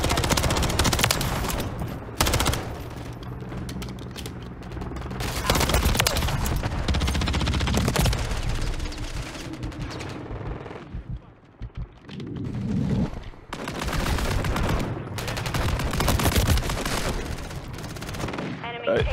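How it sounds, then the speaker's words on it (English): Heavy gunfire in Call of Duty MW3 Domination at Stash House, with shotguns in use: loud repeated shots and bursts in clusters with short lulls, close and punchy, voices occasionally under the fire. "They're all just using shotguns."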